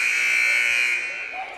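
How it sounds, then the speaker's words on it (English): A warning buzzer at an eighth-grade girls' basketball game, one loud, steady electronic tone that holds for over a second and then fades slightly, with faint crowd noise beneath. "warning buzzer sounds"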